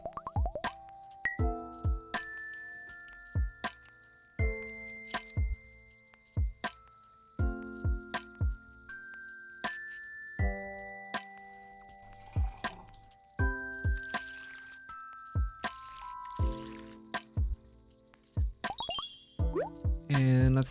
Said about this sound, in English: Okay, let's water some plants.